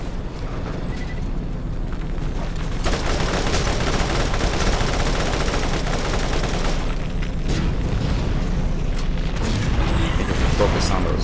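Rapid automatic turret gunfire with booms and explosions in the Borderlands video game, loud and continuous through the whole stretch over dense battle noise, with sharp bursts toward the end.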